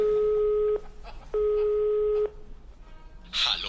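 Telephone line tones in a phone call to a hotline in Rome: two steady beeping tone segments, then a short high electronic chirp, moderately loud over faint background.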